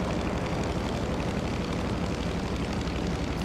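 An airplane lands in a flight video game: a loud, steady engine roar with rushing air, unbroken and alone.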